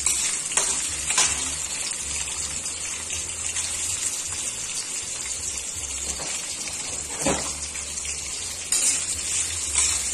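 Pork fat renders in a hot pan for a mung bean, vegetable and pork sauté, a steady close crackling sizzle throughout with a few louder pops and stirring scrapes, no talk.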